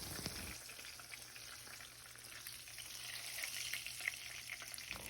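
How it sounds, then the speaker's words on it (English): Pork steaks fry in a pan with a steady, faint sizzle and hiss that runs unbroken from start to finish, with no voices. "flip them and let them cook for an additional 4 minutes"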